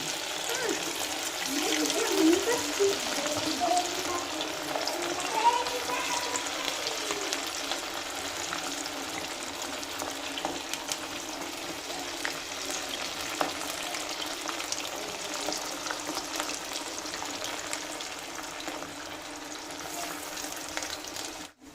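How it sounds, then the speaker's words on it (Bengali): Chicken pakoras frying in oil, a steady, dense crackling sizzle that runs close and even throughout with small bubbling pops and no break. "এখন এই এটা ভাজা প্রায় শেষ হয়ে গেছে আর এগুলো ভেজে রেখেছি"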